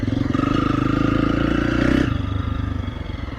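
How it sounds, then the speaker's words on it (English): A motorcycle tuned with an ECU reflash pulls in second gear on light throttle. Its engine gives a steady, close droning hum that eases off after about two seconds, with no talking. "that's just second gear on the, just a little bit on the throttle"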